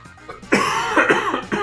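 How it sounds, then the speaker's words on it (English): A person coughing during a Jackbox game party, a short burst of several harsh, close coughs in quick succession. "Still coughing."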